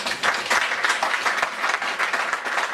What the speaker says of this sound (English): I think it deserves a big round of applause